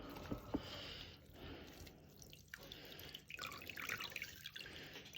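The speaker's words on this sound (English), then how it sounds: "I'm just squeezing them against the sides of the bowl because I'm one-handed." Wet wool nappy covers are squeezed against the sides of a bowl, giving soft, faint squelches and trickling drips of water close by, with quiet pauses between presses and no speech.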